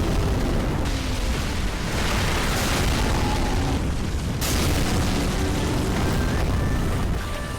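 Heavy fiery blasts and rumbling impacts as a fireball strikes a tree boss in the Dark Souls 3 video game, loud and dense, with sweeping game effects layered over a constant roar.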